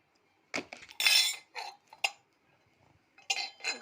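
Metal utensils, new household pots and vessels received as puja gifts, clink and clatter in several short bursts as they are handled, close and fairly loud, with quiet pauses between.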